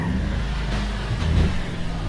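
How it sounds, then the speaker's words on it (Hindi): A car engine in a GTA 5 Transformers mod revs with a steady low drone that swells slightly midway, loud and close with no talking. "इंजन की आवाज सुनो तुम"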